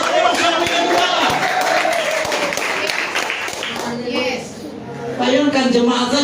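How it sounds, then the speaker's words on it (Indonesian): Church congregation clapping, dense rapid claps under loud speech and crowd noise, thinning briefly before a voice resumes. "Bayangkan jemaat saja tepuk tangan."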